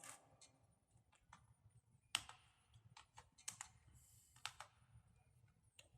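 Quiet, irregular keystrokes on a computer keyboard while entering data into an Excel spreadsheet, with soft clicks and a few sharper taps, close and without talk.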